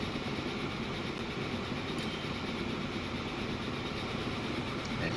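Trains roll through a rail network in Transport Fever 2, a steady rumbling clatter of wheels and wagons that stays even and moderately loud throughout, with no talk over it.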